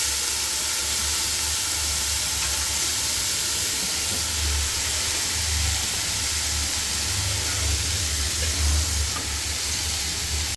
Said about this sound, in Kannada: ಇವಾಗ ಇದಕ್ಕೆ ನೆನೆಸಿಟ್ಕೊಂಡಂತಹ ಅಕ್ಕಿನ ಸೇರಿಸೋಣ